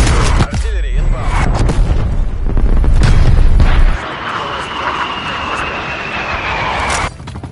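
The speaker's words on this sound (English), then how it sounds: "Artillery inbound." Artillery strike with aircraft in Call of Duty Black Ops Cold War multiplayer: loud deep booms and rumbling blasts, with a jet-like roar sweeping overhead, then a quieter tail before a final thump.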